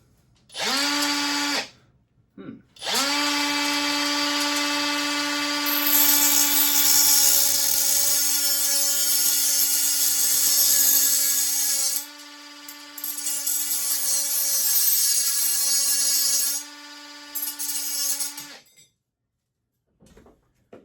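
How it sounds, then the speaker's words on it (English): A 12 volt Hercules 3-inch cordless cutoff tool whines at a high steady pitch while cutting during bathroom flooring installation, running in long bursts with brief stops and rising in tone as it spins down. "It's the 12 volt Hercules 3-inch cutoff."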